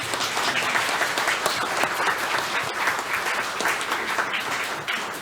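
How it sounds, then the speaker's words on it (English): A school board meeting audience gives a dense, steady round of applause that stays at an even level for the whole stretch, with no speech over it. "So everybody give them a round of applause."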